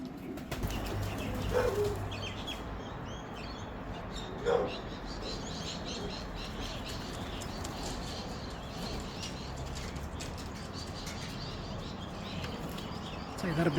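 A racing pigeon returning from a 256 km race lands on a roof with a couple of brief wing flaps and a soft thump, amid outdoor birdsong and someone talking nearby.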